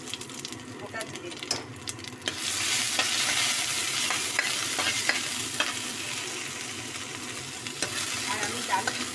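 Dried red chillies, ginger and whole cumin sputter in hot oil in a pan for lau dalna, with steady sizzling and frequent scraping clinks of a spatula stirring close by; the frying swells louder partway through.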